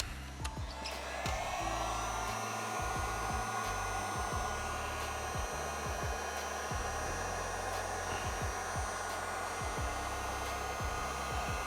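Heat gun blowing hot air over paint protection film on a car fender, a steady loud whooshing roar that continues throughout, with low rhythmic thumps underneath.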